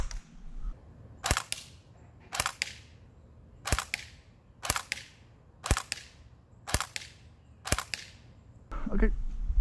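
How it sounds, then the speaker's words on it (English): Seven sharp single airsoft shots from an Umarex H&K G36C at spotter targets, evenly spaced about a second apart, close and crisp with quick decays, followed by a brief rustle. "Then we fired a series of shots at the spotter targets to compare grouping,"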